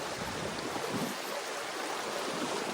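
Steady rushing water fills the scene, a continuous broadband wash of walking through a flowing stream swollen by rain, with no talking.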